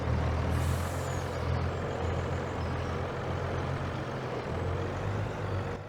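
A Volvo truck drives through deep snow in Farming Simulator 22, with a steady, loud low engine drone and a brief airy hiss near the start, continuous and without talk.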